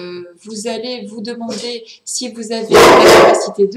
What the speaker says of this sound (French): Pardon, c'est mon chien.